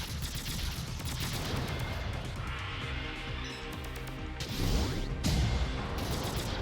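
Turrets fire in the mech game Zone of the Enders, a dense barrage of rapid gunfire and heavy blasts over mechanical clatter, loud and continuous, with bigger booms near the end.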